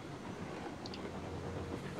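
A train rolls along the rails in the Railroads Online game, a soft continuous rumble with faint rhythmic clatter and a couple of brief high squeals, heard on its own without talk.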